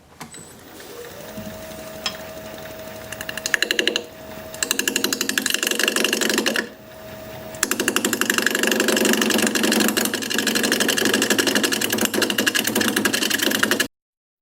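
A wood lathe spins a dogwood dish blank with a steady motor whine and rattling, cutting out briefly twice before running on at constant speed, close and loud, then stopping abruptly.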